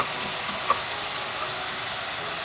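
Whole spices spluttering in hot oil in a pan for a Kerala fish moilee: a steady close sizzle and hiss with a small pop partway through.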